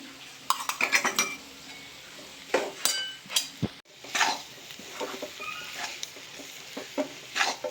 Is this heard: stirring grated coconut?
yes